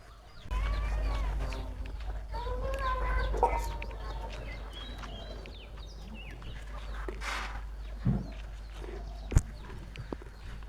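A chicken clucks in a series of short pitched calls, near and fairly clear, over a low steady hum, with a few sharp knocks and handling noises later on.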